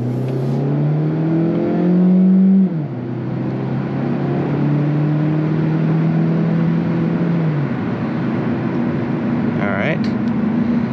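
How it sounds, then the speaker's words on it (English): A 2024 Hyundai Elantra Hybrid engine revs hard at full throttle, its pitch climbing, dropping at a gear shift, then climbing again; a steady whir runs throughout. "I'm going to put it to the floor right now"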